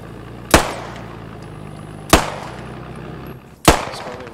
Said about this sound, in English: Feels weird shooting a bolt action.